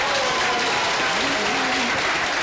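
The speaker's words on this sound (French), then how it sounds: "Applaudissements encore pour monsieur Monet." A television studio audience applauds a contestant, producing dense, steady clapping that fills the room at even loudness throughout, with a voice faintly audible beneath it.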